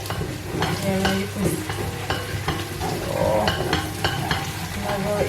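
Food sizzles and caramelizes in a pan, a steady frying hiss broken by repeated scraping strokes of stirring and faint clinks of a utensil.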